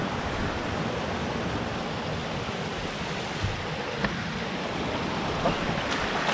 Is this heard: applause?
no